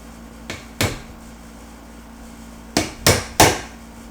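Five sharp hammer taps drive a dowel into a Warmoth guitar body, a couple of close strikes, a pause, then three quick blows in a row, each ringing briefly against a quiet room.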